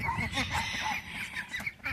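White leghorn chickens cluck and murmur close by in a short, busy burst of clucking.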